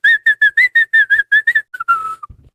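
A voice imitates whistling with a quick run of about ten clipped, high, bright notes, then a longer sliding whistle that trails off. It sounds close and fairly loud, with no talking.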